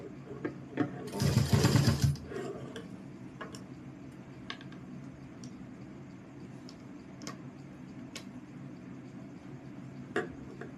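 A sewing machine stitches a Rajasthani kanchli blouse in a short, fairly loud burst of rapid mechanical running lasting about a second, followed by quiet faint clicks and ticks of handling the fabric.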